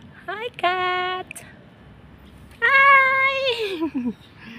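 A street cat meows twice, close and clear, the second call longer and falling in pitch, with a quiet pause between the two cries.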